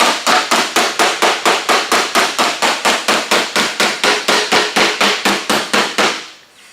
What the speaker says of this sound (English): every time that you hit your hammer with a blow, it's pushing that dolly into the car door